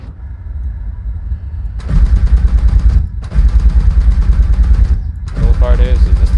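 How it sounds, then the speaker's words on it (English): Rapid bursts of Tu-14 aircraft cannon fire in War Thunder, the two cannons firing sequentially in two long volleys with a brief pause between, loud and mechanical. "this thing doesn't fire both cannons at once. It's sequential fire"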